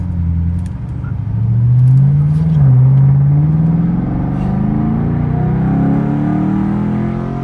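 A Chevrolet Camaro SS engine with traction control off, a loud close low rumble that rises and climbs in pitch as the revs build, then holds at a steady roar.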